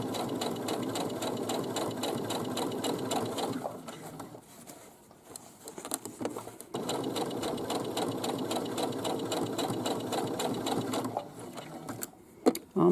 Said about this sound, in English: You want to stitch all the way to the end and then back stitch about 3 or 4 stitches